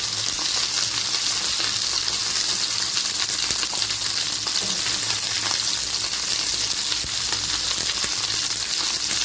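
Garlic, chillies, ginger and cashews sautéing in a pan for paneer butter masala give off a loud, continuous sizzle and frying hiss, with faint stirring clinks and no talk.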